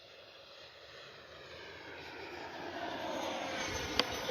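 A FlyFans L-39 RC jet on 4S power flies at full throttle, its high-pitched electric ducted-fan whine faint at first and swelling steadily louder as it approaches, continuous and alone.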